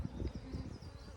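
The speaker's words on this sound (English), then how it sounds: "there's bees flying in your face." Honeybees buzz around an open Flow Hive, a low, steady droning hum from insects close by, faint and continuous.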